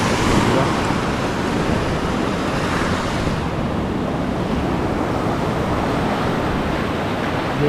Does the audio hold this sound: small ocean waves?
yes